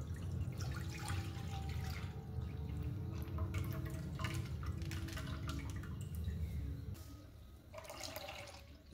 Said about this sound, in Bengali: এবার একটি পাত্রে আমি 1 লিটার মতন দুধ নিচ্ছি।